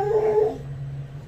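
A puppy gives a brief, high whining whimper during water therapy that trails off into quieter breathy sounds, close by, with no talking.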